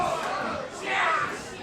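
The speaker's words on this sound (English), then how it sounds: "We have definitely a bipartisan crowd here as they love the BOZ in Chicago." A crowd at a live wrestling championship event in Chicago cheers and shouts in a swelling roar that peaks midway, mixed with a commentator talking over it.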